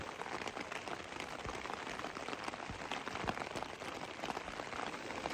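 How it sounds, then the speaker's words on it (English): Steady rain falling on a wilderness campsite with a tarp over a tent, a dense continuous patter of drops without pause throughout. "Just listen to that rain."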